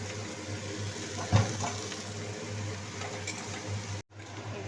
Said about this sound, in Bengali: পাবদা মাছের ঝালে সর্ষে বাটা জলটা দিয়ে দিলাম ধুয়ে